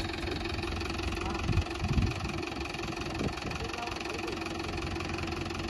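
Mahindra tractor engine running steadily at a low idle-like drone, fairly faint, with a few brief louder knocks and bumps partway through.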